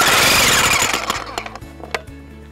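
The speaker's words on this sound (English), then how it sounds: "Always check that your jackhammer's working." A jackhammer used to drive a Gallagher Mega Anchor blasts loud and close, its dense hammering fading into sparse, uneven knocks and rattles as it winds down.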